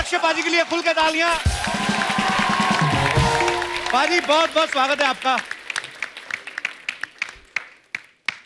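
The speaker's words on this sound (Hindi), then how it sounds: "पाजी के लिए खुल के तालियां।" Studio audience applause and cheering greet superstar Akshay Kumar at a Hindi comedy show, with a host welcoming him over it before the clapping thins into scattered, sharp individual claps.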